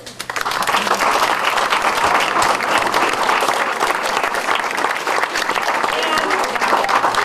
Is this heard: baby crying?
no